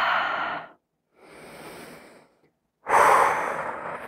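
Deep, audible breaths during a yoga flow: three long airy exhales and inhales, close and fairly loud, separated by short silences with no speech.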